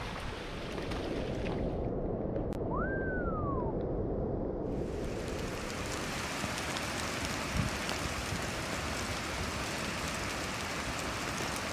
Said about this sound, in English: The rain's gotten really crazy